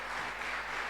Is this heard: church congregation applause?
yes